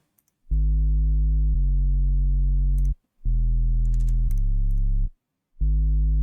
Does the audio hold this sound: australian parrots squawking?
no